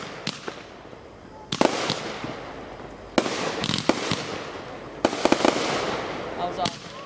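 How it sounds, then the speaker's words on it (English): Home fireworks explode in a run of sharp, loud bangs, several close together, each trailing into crackle and rumble. Voices react faintly between the blasts. "So many fireworks."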